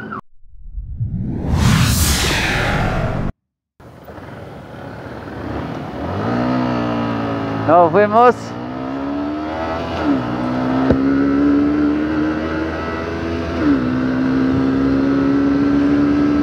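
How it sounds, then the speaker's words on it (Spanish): Yamaha R15 V2 150 cc motorcycle accelerating hard through the city, its engine revving up in rising pitch sweeps after a loud whoosh, close and loud throughout. "La moto acelera muy bien."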